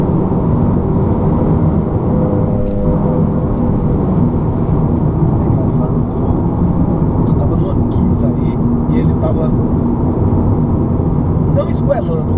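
A 2018 Honda Civic Si turbo coupé engine drones loudly and steadily while driving, a dense, continuous low rumble that fills the whole stretch, with brief faint higher noises on top.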